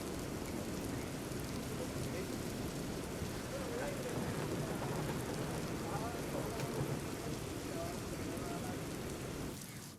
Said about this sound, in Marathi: रात्रीपासून नाशिक शहरासह जिल्ह्यात संततधार सुरू आहे